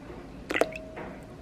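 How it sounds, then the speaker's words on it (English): A tablespoon of vegetable oil lands in a bowl of homemade bread dough mix with water and sugar. It makes one brief, soft, close liquid plop with a small squishy drip, and the room is otherwise quiet. "now one tablespoon of vegetable oil."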